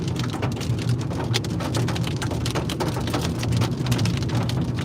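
Steady rain from a squall line during a Dakotas storm chase, a dense continuous hiss of drops drumming on surfaces with a low rumbling undertone, loud and close throughout with no voices.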